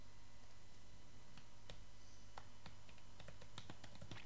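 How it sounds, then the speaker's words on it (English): Keys clacking on a computer keyboard in irregular bursts of taps over a steady background hum, with no talking. "I'm typing and talking, which I can't do."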